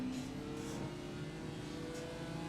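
Race car engine in the iRacing sim driven on a motion rig, a steady loud droning roar that holds without a break, with no voices.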